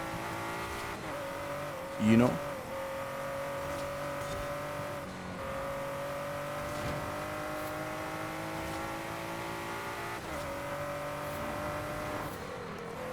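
A 2017 Ford GT races in Forza Horizon 5, its engine droning steadily with gear shifts and a brief louder burst, while someone talks over it.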